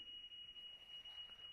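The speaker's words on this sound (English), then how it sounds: "The alarm just armed on the Murcielago." A Lamborghini Murcielago's car alarm arming: a steady, faint high-pitched electronic tone with tiny pulses, heard alone over low background hiss.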